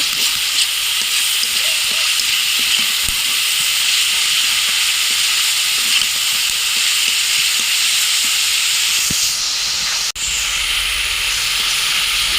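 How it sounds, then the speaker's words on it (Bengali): A spice paste of red chilli is fried and stirred in a pan for a fish curry, giving a steady, loud sizzle with scattered scraping stirs throughout and no talking. "মশলাটা কষিয়ে নেব ভালোভাবে। মশলাটা ভালো মতো কষিয়ে নেব।"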